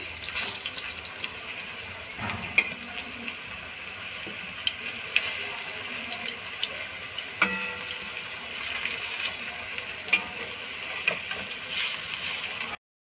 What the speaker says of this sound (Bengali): এবারে বড়াগুলোকে উল্টে দিচ্ছি